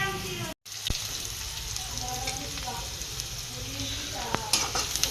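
Onion frying in a pan until reddish golden for a spicy cluster bean curry, giving a steady soft sizzle with occasional utensil scrapes and light clinks, close and moderately quiet, with a brief dropout near the start.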